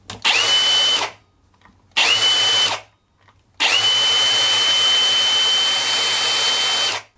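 A Milwaukee M18 power tool on a standard battery whirs loudly in three close bursts, two short revs and then a longer sustained run, each with a steady high whine and no voices.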